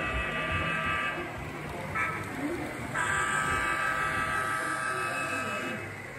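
An N scale Kato Amtrak model train runs on a club layout, giving a steady rolling whir with a few sustained tonal whines and some background chatter from people nearby.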